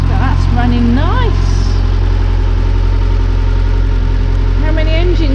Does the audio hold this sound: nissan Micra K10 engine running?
yes